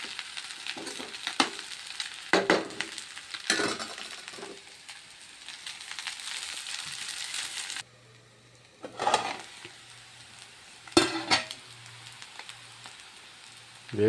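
Noodles being stirred and fried in a hot pan give a sizzling hiss broken by repeated scraping bursts, with a brief quieter pause midway before the clatter resumes.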